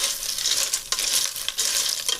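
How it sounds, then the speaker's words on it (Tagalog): Meat sizzling and frying steadily in a pan, a continuous hissy crackle up close with a few soft stirring knocks and no voices. "Okay, lutuin lang natin yung laman."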